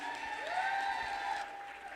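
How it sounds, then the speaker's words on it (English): Audience applause at a live charity entertainment event, a steady wash of clapping held at an even level, with a sustained musical tone running underneath and easing slightly near the end. "Round of applause, ladies and gentlemen."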